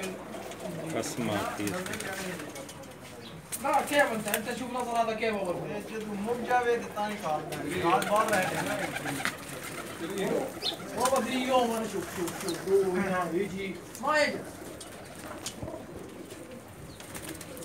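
Pigeons kept by a Jeddah, Saudi Arabia breeder coo in soft repeated throaty phrases with occasional wing flaps, running continuously beneath someone talking throughout.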